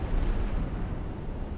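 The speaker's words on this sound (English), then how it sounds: "It's a big explosion." A ship blows up in the submarine game Silent Hunter IV, one loud, deep, rumbling blast that keeps roaring with no pause for its short length.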